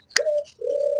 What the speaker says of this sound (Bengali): দেখুন ঘুঘু পাখির ডাক কত সুন্দর,